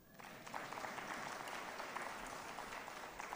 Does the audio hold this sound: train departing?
no